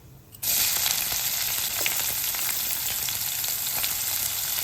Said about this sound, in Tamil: பட்டை, லவங்கம், ஏலக்காய், கிராம்பு எல்லாத்தையும் ஒன்றா சேர்த்தாச்சு. நல்லா வறுபடட்டும்.